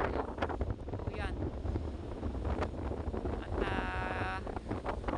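Strong wind at the seaside after a storm buffets the microphone in steady low rumbling gusts, with a voice talking over it now and then.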